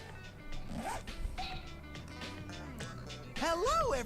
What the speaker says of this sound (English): Inside, Teddy suddenly undoes his zipper, huh?